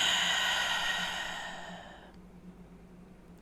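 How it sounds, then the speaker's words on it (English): A slow, deep exhale fades out gradually over a couple of seconds, breathy and close, followed by quiet stillness. "Take a deep breath in"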